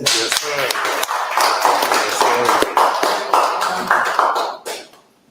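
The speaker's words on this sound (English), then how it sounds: "Let's give a round of applause." Audience applause mixed with a voice speaking over it, steady and loud, then dying away near the end.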